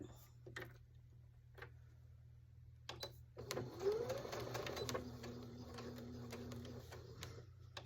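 A sewing machine runs along the edge of a baby bib with its needle centered, starting after scattered clicks and handling noises, then holding a steady, close whirring hum with a faint background drone.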